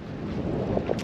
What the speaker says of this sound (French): Il y a des rafales à 20 nœuds.